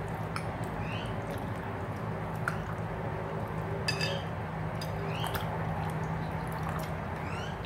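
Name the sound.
washing bitter gourd in water by rubbing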